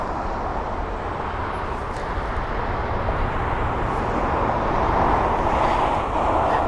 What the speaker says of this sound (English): The Delta 330 taxiing relatively fast.